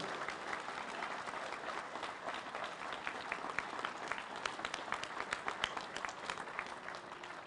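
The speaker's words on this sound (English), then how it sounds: "Let's give Woody another round of applause." Steady, dense applause from a crowd at a United Mine Workers rally supporting Senator Joe Manchin, many hands clapping continuously at a distance for over seven seconds, fairly faint and even with no talk over it.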